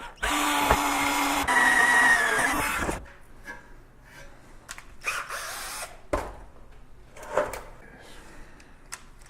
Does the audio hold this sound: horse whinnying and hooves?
no